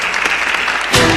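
A crowd claps in loud, dense applause that swells sharply near the end, with no clear talking over it.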